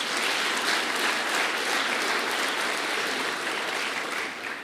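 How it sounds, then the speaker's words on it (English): A large crowd applauds at a governor's announcement of a sporting goods distribution facility, producing a thick, continuous roar of clapping that holds evenly before easing slightly at the end. "And Debbie Preston and Kevin McLaughlin, let's give them a round of applause."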